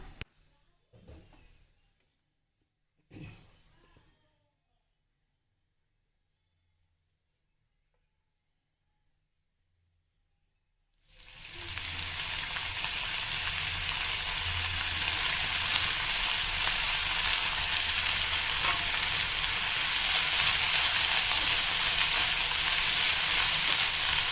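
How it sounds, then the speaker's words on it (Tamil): Vallarai greens being sautéed in coconut oil for a chutney, starting with a few faint knocks and then a loud, steady sizzle that builds and keeps going once the greens hit the hot pan. "இதிலே கொஞ்சம் தேங்காய் எண்ணெய் ஊற்றி கீரையை வணக்கிக்கலாம்."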